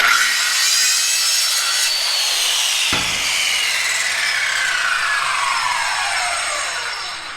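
A corded power saw cuts a piece to length with a loud, continuous rasping drone up close, a sudden shift in tone partway through, then a steady cut that tapers off at the end.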